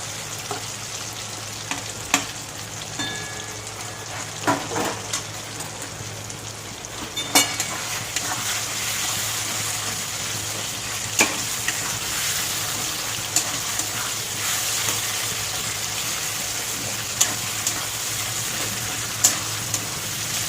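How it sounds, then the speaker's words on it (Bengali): A taro leaf fries in the oil left from frying prawns, a steady close sizzle with scattered pops and clicks from stirring, continuing throughout without speech. "এবার এই চিংড়ি মাছ ভাজার তেলের মধ্যে আমি কচু পাতাটা দিয়ে দেবো।"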